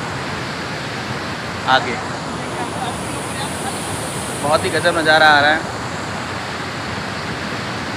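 River water rushing below a stadium-like rocky enclosure at Chuka beach, a steady broadband roar like surf or a waterfall, with brief voices rising over it.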